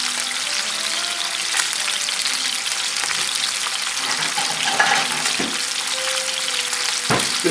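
Tilapia fillets frying in a pan with no flour coating, giving a steady loud sizzle throughout with a few faint clinks of utensils.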